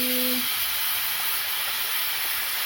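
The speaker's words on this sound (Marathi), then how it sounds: "इथे झाली शिटी वरण भाताची" A pressure cooker with dal and rice lets out its whistle as a loud, continuous rush of hissing steam, opening with a brief tonal note.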